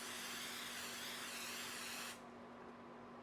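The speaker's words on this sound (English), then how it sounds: "spray the outer surface of your mask like this" Steady close hiss of an aerosol spray onto the outer surface of a face mask lasting about two seconds, then stopping abruptly, leaving faint background noise.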